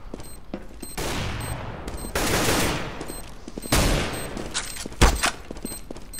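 Bursts of rapid gunfire ring out from a Counter-Strike: Global Offensive competitive match, with broadband volleys returning several times and a sharp crack near the end, all loud and close, with no talk over the shots.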